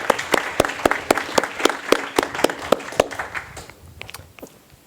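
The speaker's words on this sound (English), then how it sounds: "let's give them a round of applause" Scattered audience applause for conference panelists: a run of distinct, fairly regular claps close to the microphone over a light crowd patter, thinning out and fading near the end.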